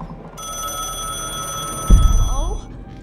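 A telephone rings with a continuous electronic trill, then a brief thump and rustle near the end as the ringing stops.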